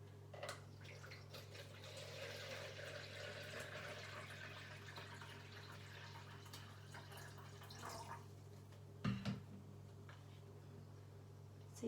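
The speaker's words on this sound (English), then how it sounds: "So I'm just going to pour that in." Water pours into a measuring jug up to the one-litre mark, a quiet trickling splash over a steady low hum, ending with a couple of brief knocks, and no speech.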